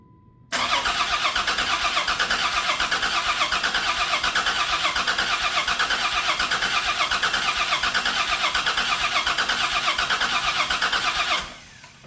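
A 1991 Dodge Grand Caravan SE that has sat for about twenty years tries to start, its engine cranking in a steady, rapid pulsing churn for roughly eleven seconds before cutting off, loud and close.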